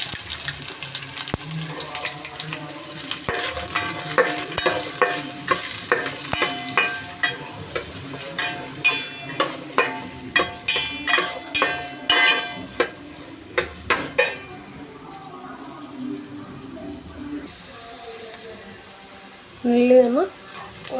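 Chopped shallots and onions fry in a pan as a spatula stirs them in quick rhythmic scraping strokes over a constant sizzle, close and fairly loud at first, then the stirring stops and a quieter sizzle continues with a brief louder burst near the end.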